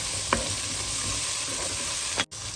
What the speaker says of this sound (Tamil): வெங்காயம் கொஞ்சம் வதங்கி கொண்டு வர ஒரு 5-6 பச்சை மிளகாய் கீறி வச்சிருக்கிறேன். அதை இதோட சேர்க்கிறேன்.